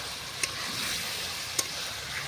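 Potol roast cooking in a pan with tamarind added, a steady soft sizzle and frying hiss throughout, with two brief clinks of a utensil.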